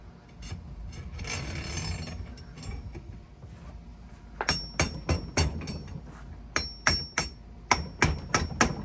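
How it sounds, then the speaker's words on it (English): Sharp metallic hammer taps ring out on a part of a California Trimmer LC-25 reel mower, first a scraping rustle, then a dozen or so close, loud strikes in uneven bursts. "I went ahead and tapped on it a couple times, and it is opening it up"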